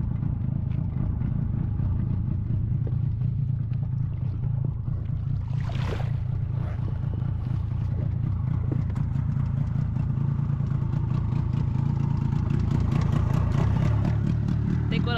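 A small dinghy outboard motor drones steadily and loudly throughout on water in a Canadian winter, with a low rumbling hum and some clattering and water noise mixed in.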